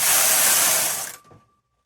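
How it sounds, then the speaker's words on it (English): A knitting machine carriage sweeps across the needle bed in one continuous loud hissing, rattling pass of about a second, then stops abruptly with a short faint tail. "I'm just going to run my carriage across so that they come down into normal working position"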